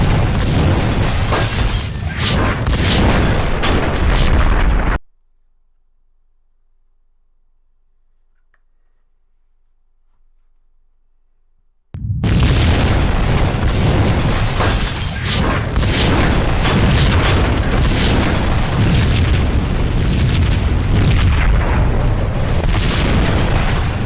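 A heavy explosion from the Max Payne video game, loud booming blasts and debris filling the opening seconds, then a sudden stretch of silence before another long, dense rumbling burst returns at full loudness.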